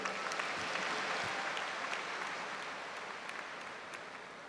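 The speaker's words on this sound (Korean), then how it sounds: "대의원 동지 여러분, 큰 박수로 환영해 주십시오." A large convention hall crowd of party delegates breaks into sustained applause welcoming the floor leader, a dense, steady wash of clapping from a distance that slowly fades slightly.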